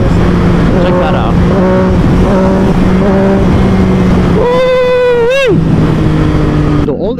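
A Triumph Daytona 675R motorcycle engine revs in short repeated blips at low RPM, then climbs into one long sharp high rev that drops away, loud and close over a steady idle.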